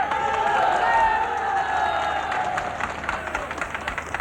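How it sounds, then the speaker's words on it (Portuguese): Long applause from a gathered crowd greets the words of an army captain during the 25 April revolution in Portugal, a dense steady clatter that swells early and thins slightly toward the end. "aplausos longos sublinham as palavras do capitão Maia"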